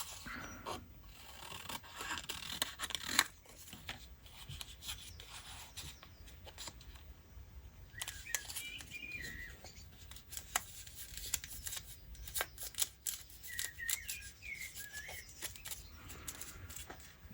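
Scissors snip and trim fabric for a junk journal topper, a run of quiet, close rustling cuts and paper-like shuffling repeating irregularly throughout, with no talking.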